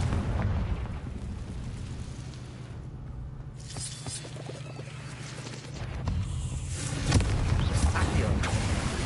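Rumbling, crackling blasts from the Confringo fire spell in the game Hogwarts Legacy, a sustained roar with bursts and debris-like crackles, louder toward the end, with no clear voices.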